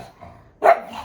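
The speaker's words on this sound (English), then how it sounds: "You can bark all you want." A single short, loud dog bark up close, rising sharply out of a low, quiet background.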